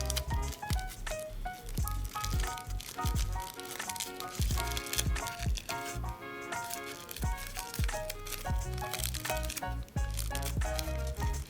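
Tissue paper crinkles and rustles steadily as it is gently pulled apart into a flower shape, close by and soft, with music playing over it.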